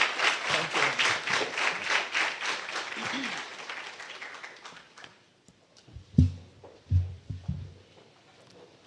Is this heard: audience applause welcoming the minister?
yes